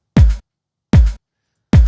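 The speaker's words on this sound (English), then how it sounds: "So if I'm gonna press and play this kick," Three deep, punchy house music kick drum sample hits spaced evenly apart, each with a short attack and booming low end, separated by silence.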